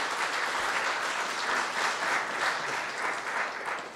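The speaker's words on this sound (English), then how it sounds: "everybody, one last round of applause for Joe Minicozzi" An audience claps for a speaker after an urban design talk at a forum in Davis, with steady, moderately distant applause that swells and eases slightly over a few seconds.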